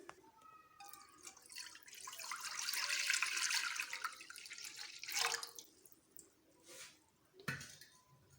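Full-cream milk poured from a container into a cooking pan in a home kitchen, a soft continuous splashing pour swelling over several seconds, then a few quieter drips and sloshes.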